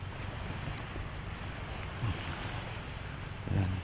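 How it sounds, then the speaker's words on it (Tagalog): Steady wash of wind and water with a low engine-like rumble, as a boat moves nearby on open water off Aguirangan Island, Camarines Sur; no voices. "andito na yung bangka na magsusundo sa akin"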